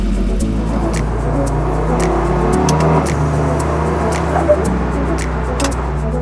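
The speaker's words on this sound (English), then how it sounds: "The KTM X-BOW GT-XR, a race car specifically for the road." KTM X-Bow GT-XR road-going race car driving on a public road, with a steady low engine drone and tonal hum throughout, a brief shift in engine note midway, and a voice talking over it.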